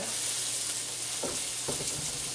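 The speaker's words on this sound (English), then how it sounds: "Okay, I got my potatoes chopped. The onions are sauteed a little bit and I'm just going to throw these in." Chopped potatoes tumble into a pan of lightly sauteed onions, raising a steady loud sizzle with a few scraping clatters partway through as they land and shift; no voices.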